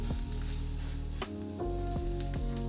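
Steak searing in olive oil in a hot pan, a loud close sizzle with crackling pops over about three seconds and no talk.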